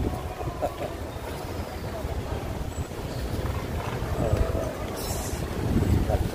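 Strong wind buffets the microphone outdoors on a walk, a steady low rumbling roar that swells louder toward the end, with no clear voices over it.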